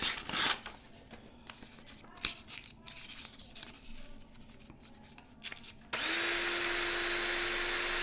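A cordless drill whirs steadily with scratchy friction from 600-grit sandpaper, then jumps to a loud, constant high-speed whine for the last couple of seconds.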